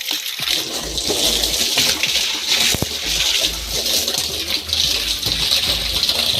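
Water runs steadily into a container to dissolve fertilizer for a chili crop, a continuous close gushing splash that stays strong from start to finish, with a brief knock near the start.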